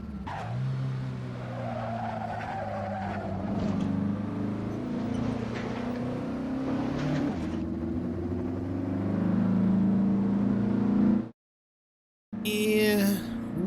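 A Porsche 718 RS from 1960 as simulated in the Assetto Corsa racing game, with a steady engine drone, some tyre squeal, and pitch rising and falling with the revs before a short silent gap.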